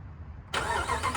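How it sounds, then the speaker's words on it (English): A 2020 Ram 1500 pickup fires up by remote start, caught close at the exhaust: a quiet idle-like hum, then an abrupt loud ignition that settles into a steady rumble. "Watch this remote start. Listen, put your phone near the exhaust."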